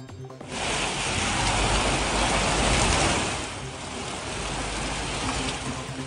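Heavy rain pours during flooding in Benguet, a dense, loud, steady hiss of rainfall and rushing water that holds for several seconds after a quiet start and then eases slightly.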